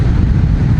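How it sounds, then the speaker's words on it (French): Steady low wind rumble buffeting the microphone while riding a Honda Rebel CMX 1100 motorcycle, constant and loud with no other sounds. "Alors il y a du vent aujourd'hui là"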